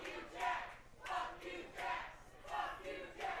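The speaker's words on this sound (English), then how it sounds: "The crowd letting Jack Pollock know he's number one" Crowd at a live wrestling event cheering and chanting in rhythmic surging bursts for a wrestler, loud and close with no clear talk over it.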